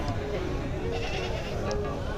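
Goat bleats rise from a busy livestock market in Indonesia, mixed into a dense crowd murmur and other animal noise, with people talking throughout.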